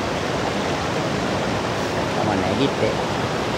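Flowing water near a campsite in Meemure makes a steady, full rushing wash throughout, with a person speaking briefly over it.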